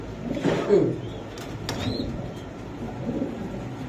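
Lahori pigeons cooing close by in a low, soft, rolling murmur that runs through the clip, with faint background noise and a brief sharp tap midway.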